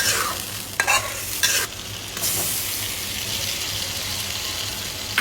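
Peeled boiled eggs stirred with water in a pan, with a few sharp scraping clinks early on over a continuous close bubbling sizzle.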